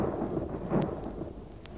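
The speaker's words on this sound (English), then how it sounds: "It's raining. That's lovely rain." Rain effect in a BBC radio drama: a steady wash of falling rain with a low rumble beneath, continuous and fairly close throughout, with no voices over it.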